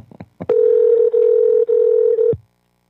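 A telephone rings back on an outgoing call: one steady tone of nearly two seconds with two brief dropouts, preceded by a few short clicks. It is loud and clear, with no talking.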